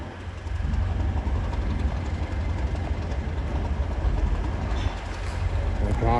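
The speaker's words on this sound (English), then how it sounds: "Railway train." A railway train rumbles steadily past close by at a station platform, a loud continuous rolling drone with faint wheel clatter and a brief squeal near the end.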